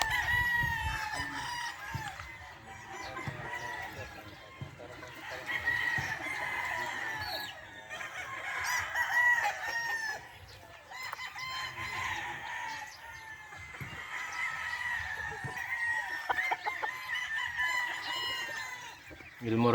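Young Gilmore Hatch gamefowl roosters on a game farm crow repeatedly and cluck almost without pause, loud and close, with several birds overlapping throughout.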